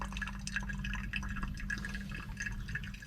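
Coffee poured and spilling inside a caravan, a faint continuous trickle with scattered drips and splashes of liquid, heard up close without voices.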